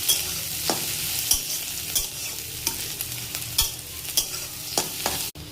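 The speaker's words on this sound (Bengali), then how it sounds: "পেঁয়াজগুলোকে এবার লাল করে আমি ভেজে নেব।" Onions frying in a pan until reddish-brown, with a steady soft sizzle and repeated scrapes and clinks of a spatula stirring them at close range. No one speaks.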